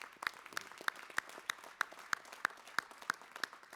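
A small audience applauds a team at a conference closing ceremony, with sparse, distinct claps spaced at a steady rhythm across the moment, faint and slightly distant.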